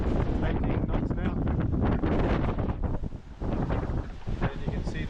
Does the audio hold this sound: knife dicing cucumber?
no